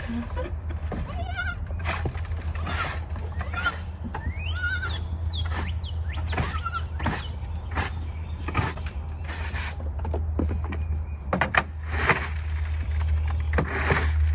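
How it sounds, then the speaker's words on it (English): Goats bleat repeatedly, several calls near and farther off, over a steady low engine-like hum. "They must be letting more goats in at night and they're having a little party up here"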